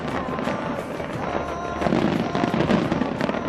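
Green fireworks at the Taipei 101 New Year celebration crackle and pop in a dense, continuous volley, with the bursts growing louder and thicker partway through.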